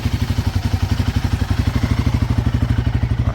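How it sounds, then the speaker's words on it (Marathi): A motorcycle engine idles after a cold start, its steady low thumping pulse running evenly and close throughout with no voices. "हे कोल्ड स्टार्ट करून ठेवलं आहे बाईक"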